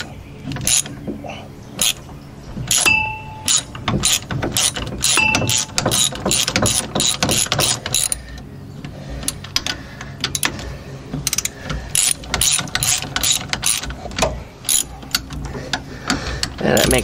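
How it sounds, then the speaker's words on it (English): A ratchet tightening a bolt on a lowered VW Beetle drop spindle during disc brake installation, with dense, rapid clicking bursts running steadily for the whole stretch, loud and close. "So you can do this with a ratchet, which makes life a lot easier."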